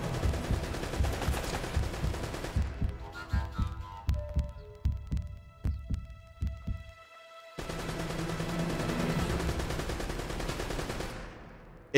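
Turret gunfire in Uncharted: Drake's Fortune, a loud sustained burst that breaks into a string of separate heavy booming shots, then a brief silence before another long roaring stretch.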